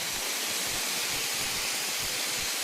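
Beef steak frying in a pan, a steady, broad hiss of sizzling fat that holds at an even level throughout with no pauses and no talking.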